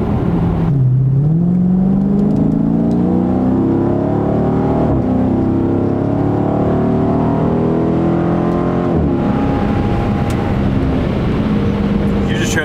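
A truck engine revs and accelerates loudly, its pitch climbing steadily, then easing back and rising again.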